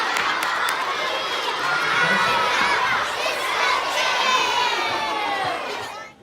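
Children at a lower school assembly cheer and shout together after a birthday song, a loud continuous wash of young voices filling the hall, with applause hard to pick out beneath the cheering.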